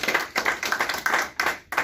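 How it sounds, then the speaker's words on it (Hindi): Audience clapping at a memorial committee gathering in Lucknow, a brisk burst of applause from a crowd with repeated swells and short dips, close and fairly loud with no voices over it. "एक बार इनके लिए जोरदार तालियां बजानी चाहिए"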